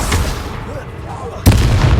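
Bombarda blast spell cast in the video game Hogwarts Legacy, a loud booming explosion that hits sharply after a sustained rumbling roar, dense and close.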